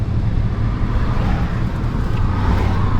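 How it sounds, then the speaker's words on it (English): A Tesla Cybertruck drives past at Starbase in Boca Chica, a loud continuous rolling road and tire rumble close by, steady throughout and cutting off abruptly at the end, with no talking. "Here comes the Cyber truck again."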